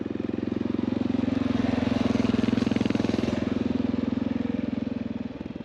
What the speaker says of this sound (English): the bike was back to running really well